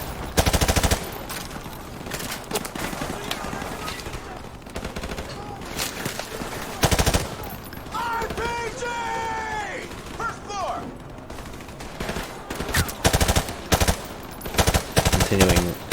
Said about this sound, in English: He's firing into that store.